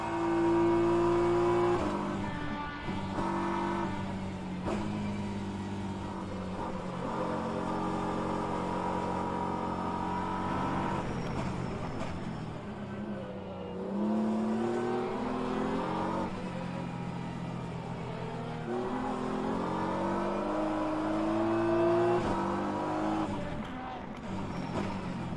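Simulated LMP2 prototype race cars from rFactor 2 at Interlagos howl past in a steady stream of layered engine notes, pitches rising and falling as they close in and pull away, with a BMW's engine droning underneath throughout.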